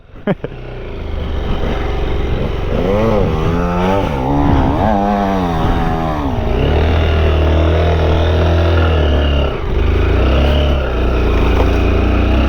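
Honda XR 190L motorcycle riding off-road through rough terrain past old wartime bunkers, its engine loud and close, rising and falling in pitch as it revs and climbs, with a steady buzzing drone.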